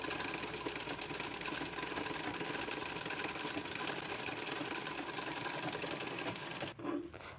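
A sewing machine stitches along the back of a blouse, a steady fast mechanical whir running nearly nonstop up close, then a brief pause near the end.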